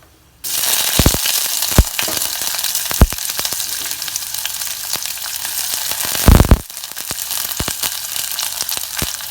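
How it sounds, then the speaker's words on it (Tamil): Whole cinnamon, cloves and cardamom, then onion, hitting hot oil for a spicy tomato soup: a loud continuous sizzle with sharp crackles and clinks of spices dropping in, one big burst partway through. "இப்போ எண்ணெய் நல்லா சூடாகிடுச்சு அதில் பட்டை கிராம்பு ஏலக்காய் முதல்ல போடுறோம் அதுக்கப்புறம் அதில் வெங்காயம்"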